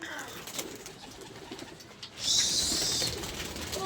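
Pigeons coo softly nearby, with low repeated calls at first. A bright, louder burst of bird sound joins about halfway through and carries on to the end.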